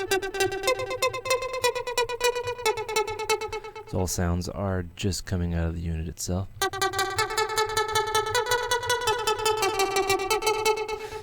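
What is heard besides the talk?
Roland JP-8080 synthesizer Super Saw trance sound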